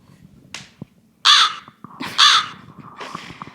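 A crow sound effect plays three or four harsh caws in quick succession, loud and close, separated by brief quiet gaps.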